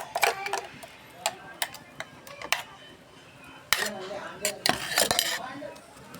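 Chutney for thattil kutti dosa being scraped from a grinder jar into a bowl with a spoon, a series of irregular metallic clinks and taps, some sharp and close, between quieter pauses.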